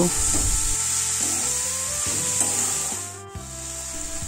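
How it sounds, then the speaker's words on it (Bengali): Fried okra and potatoes are stirred in a pan for Bengali bhindi posto, a continuous scraping and rubbing with soft sizzling under steady background music. "এবার ভেজে রাখা ভেন্ডিটা ওর মধ্যে দিয়ে দেব দিয়ে একটু নেড়ে নেব"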